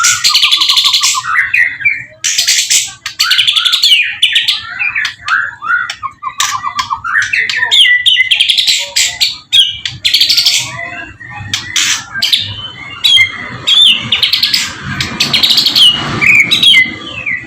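A white-rumped shama sings loudly and continuously up close, pouring out varied whistled phrases, rapid chirps and rich melodic trills with brief pauses between bursts.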